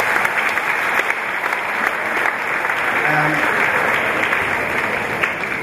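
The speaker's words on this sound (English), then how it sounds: "So again, give yourselves a round of applause." Audience applause at the closing of a Jigs & Reels fundraising event: loud, dense clapping from a crowd continues steadily throughout, with faint voices and a brief tonal sound mixed in partway.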